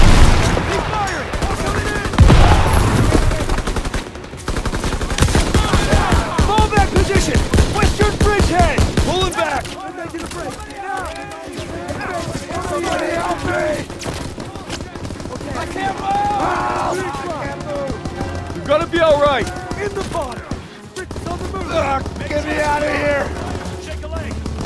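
Bursts of rapid gunfire and heavy shots ring out in a Call of Duty WWII battle against SS troops, loud and close, with soldiers shouting over the shooting and quieter gaps between volleys.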